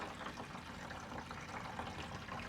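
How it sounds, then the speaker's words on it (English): Water from a hose filling the fresh-water tank of a 1973 GMC motorhome, a steady, faint gurgling rush running on evenly without a break. "There's our water filling. So we've got gravity going the right way."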